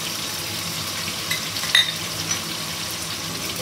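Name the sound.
Kashmiri chili powder added to spices frying in pan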